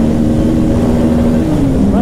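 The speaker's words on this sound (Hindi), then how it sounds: "फर्स्ट गियर पे ले आए हैं बाइक को, तो चलो खींचते हैं।" A Kawasaki Ninja 650 motorcycle pulls hard through the gears, its engine note steady and loud close by and rising in pitch near the end, with a voice talking over it.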